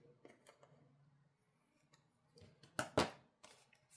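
Scissors cutting paper while assembling a handmade folio, heard as a few quiet snips early on, then two louder, sharper close cuts near the end, with no talking.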